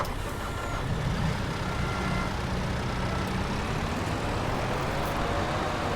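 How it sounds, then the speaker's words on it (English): A lorry engine idles in Farming Simulator 22, a steady, dense low rumble that holds evenly for the whole stretch with no speech over it. "Let's leave the engine running."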